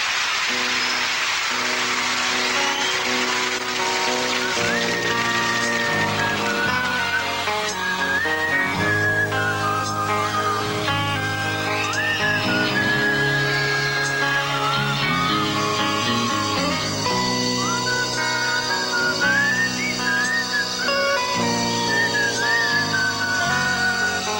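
Melodic whistling carries a tune over a full band recording, steady and prominent throughout with sustained instruments underneath.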